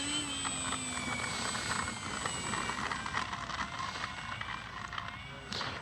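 Kavan Bristell B-23 general aviation RC model airplane flying, a steady engine drone with a faint propeller whine holding evenly throughout at moderate distance, with no talk over it.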